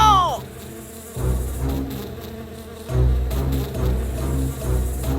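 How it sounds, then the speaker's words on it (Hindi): Loud cartoon buzzing of a swarm of giant bees sent flying toward Dorothy and her friends, a dense droning hum over a musical score that swells and pulses throughout. "डोरथी और उसके दोस्तों ने मधुमक्खियों को अपनी ओर उड़ते देखा"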